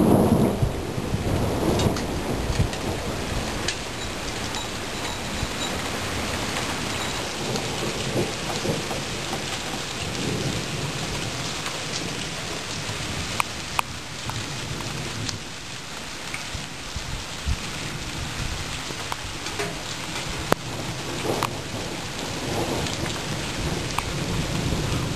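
Steady heavy rain pours through a thunder and lightning storm, with rolling rumbles of thunder rising and fading across the whole stretch and no voices.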